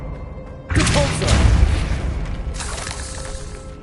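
A Depulso force spell from Hogwarts Legacy goes off as a sudden loud boom, followed by a rumbling, crashing burst and a second smaller crash as debris settles.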